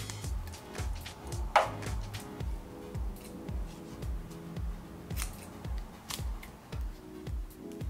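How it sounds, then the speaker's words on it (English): Scissors snip off the excess end of a woven lauhala strip for a lei po'o headband, a few crisp, sharp cuts standing out over a soft, steady rhythmic background. "snip off the excess."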